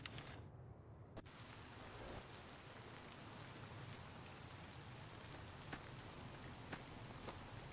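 Rain falls steadily in Fallout: New Vegas, a soft, even hiss with faint scattered drips that continues alone at low volume throughout.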